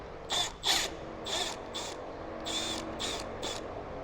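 A ratchet clicks in several quick bursts while loosening the battery hold-down strap on a Ford truck, with crisp metallic pawl rattles spaced close together and nearby.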